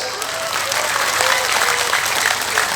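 Audience clapping at an Islamic religious gathering (pengajian) during a haul commemoration, a steady dense patter filling the whole stretch at moderate loudness, with a crowd murmur beneath.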